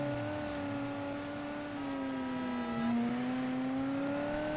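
A fast car races along in Mafia III, its engine a steady, moderately loud drone whose pitch dips slightly and then climbs again as it speeds on, with no talk over it.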